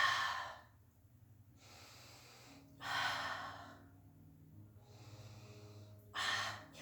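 During a Pilates class with a Bender ball, a person breathes deeply: three long, audible exhalations spaced by quieter pauses, close to the microphone with no speech.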